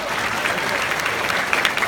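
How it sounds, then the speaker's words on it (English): A short burst of crowd clapping for Mr. Scarbrough, an 8th grade teacher at Inman. The dense, even applause lasts a couple of seconds and is fairly close. "Remember learning to clap for Mr."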